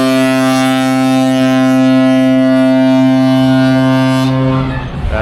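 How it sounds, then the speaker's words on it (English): A Carnival Paradise cruise ship's foghorn sounds in thick fog on the open deck, one long, loud, deep and steady blast lasting several seconds before it cuts off, with wind noise behind it. "The sound you can hear on the open deck is the fog horn,"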